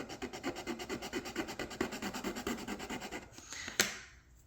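A rasping file or sandpaper scrapes across wooden model-boat planking in a steady back-and-forth rhythm, close up, ending with a short knock and quiet.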